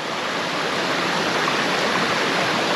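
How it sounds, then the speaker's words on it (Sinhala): A small creek in Tamborine rainforest near the Gold Coast, Australia, gives a steady, close, even rush of flowing water with no voices. "පොඩි ක්‍රීක් එකක් අපිට හම්බුණා මේ ක්‍රීක් එක ළඟ තමයි අපි ඉන්නේ"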